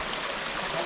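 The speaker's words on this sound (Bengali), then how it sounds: "আন্দালিপাড়া থেকে লিকটিপাড়া যাওয়া পর্যন্ত এমন সুন্দর একটি ঝিরি পড়বে।" Small forest stream (jhiri) running between hill villages, giving a steady, close, broadband rush of flowing water with no break and no voices.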